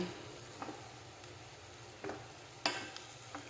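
Squash (kalabasa) frying in a pan with vegetables, a faint steady sizzle under occasional soft clinks and scrapes of a spoon stirring, no talking.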